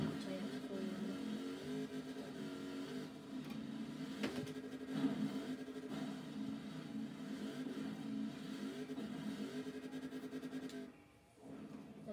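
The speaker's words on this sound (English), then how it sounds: "It's by far my favourite car in Forza Horizon 4" A car engine revs and accelerates in the racing game Forza Horizon 4, a steady mid-pitched drone with rising and falling pitch that runs throughout and drops briefly near the end.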